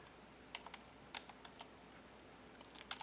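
Someone types VBA code on a computer keyboard, producing a sparse, irregular run of light keystroke clicks that sound close by and fairly quiet.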